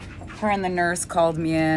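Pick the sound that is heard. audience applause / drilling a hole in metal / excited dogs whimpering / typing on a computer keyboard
excited dogs whimpering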